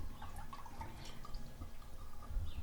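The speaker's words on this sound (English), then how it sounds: "I have some milk in the pot and I'm going to add some cream" Cream poured into milk in a pot makes a faint, continuous liquid splashing and trickling, with a few soft drips over a low background rumble.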